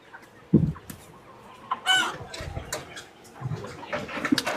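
Broiler chickens cluck at a market stall, a few close, sharp calls and squawks scattered over several seconds amid quiet background bustle.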